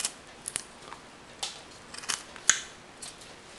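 A carving knife cuts into a wooden figure with a series of faint, sharp scraping clicks and short shaves, spaced irregularly against a quiet background.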